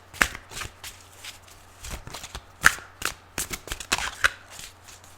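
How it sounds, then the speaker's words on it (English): Tarot cards riffled and shuffled by hand at close range, soft papery bursts and flicks coming in uneven clusters over a quiet background. "I don't spend so much time shuffling"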